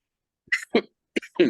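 Four short, rough coughing bursts in quick succession, close and fairly loud, with brief pauses between them.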